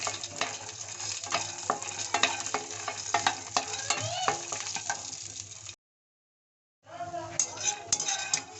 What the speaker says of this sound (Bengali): বাদামগুলো আমি ঘি দিয়ে ভেজে নেব।